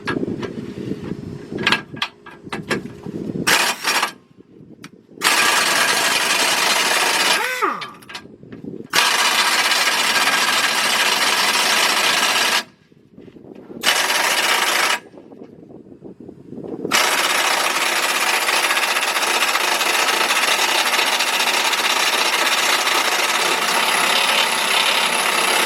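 A rusted 17 mm bolt being worked loose with hand tools, heard as close, loud bursts of ratcheting and grinding metal-on-metal scraping broken by several short silent pauses, with no talk.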